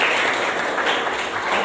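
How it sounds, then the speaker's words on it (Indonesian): A classroom of students applauds together, a brief dense wash of many hands clapping at once, steady and fairly loud with no voices over it. "Tepuk tangan untuk Iban."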